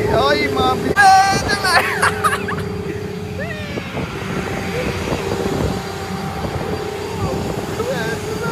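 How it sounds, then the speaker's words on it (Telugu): An airplane taking off at an airport during heavy snowfall: a broad jet-engine roar holding steady in the background while people talk nearby and other voices sound early on. "ఇది ఫ్లైట్ ఎగురుతుంది."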